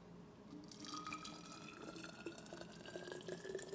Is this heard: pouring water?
yes